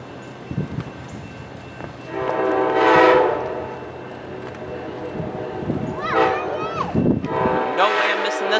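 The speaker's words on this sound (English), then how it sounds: "Here comes Amtrak PO30 in Harpers Ferry with Amtrak 160, the Dash 8 Phase 3 Pepsi can locomotive" An Amtrak train led by a Dash 8 Phase 3 locomotive arrives at Harpers Ferry, sounding its horn in loud blasts over rumbling rail noise, with people talking excitedly nearby.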